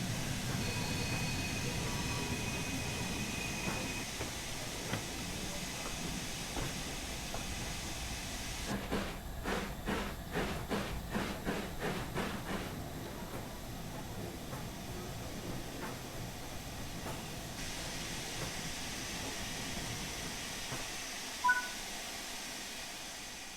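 An LMS Fowler Class 4F steam locomotive in the Train Sim World 4 video game gives a steady background hiss, then a run of rhythmic chuffs for several seconds before the hiss settles back. All of it is fairly faint.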